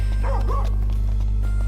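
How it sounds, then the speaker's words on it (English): A dog barks a couple of quick yelping times in the video game Final Fantasy XV, over a constant low electrical hum. "barking dogs, I can only assume it's Dave's dog here"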